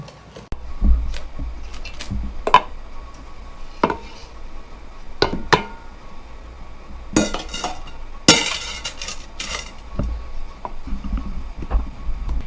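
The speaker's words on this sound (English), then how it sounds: "he's going to give that a good stir and combine that" Ingredients being stirred together in a bowl for cookie dough, heard as scattered spoon and bowl clinks and scrapes at close range, with a few sharper knocks and a brief rattling burst partway through.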